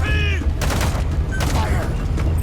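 Gunfire in Metal Gear Solid V, a few sharp bursts of shots cutting through busy game sound, with voices shouting over the action.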